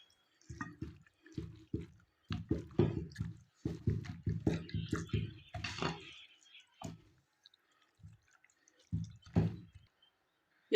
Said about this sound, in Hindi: इन तमाम चीज़ों को अच्छे से मिक्स कर लीजिए।